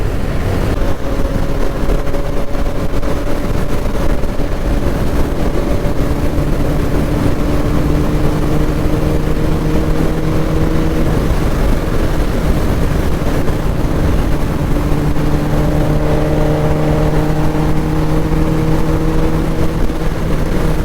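A motorcycle engine runs steadily at highway speed, around 130 km/h, with a sustained droning tone that shifts in pitch partway through, under heavy wind rush and road noise and with no talk.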